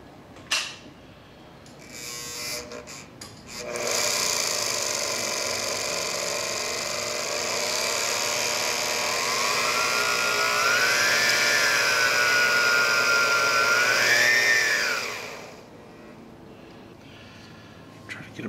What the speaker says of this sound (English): I'll let her spin a little bit with no impeller.